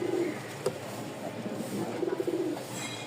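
Pigeons coo softly in short, repeated bursts, with one brief sharper sound between the calls, over a faint steady background.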